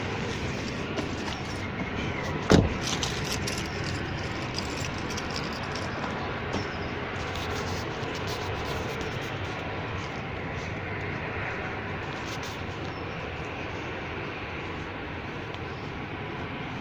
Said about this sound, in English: That's the noise of the flaring that you can hear.